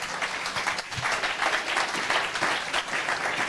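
A church congregation applauds God with dense, sustained clapping that fills the room at an even level throughout.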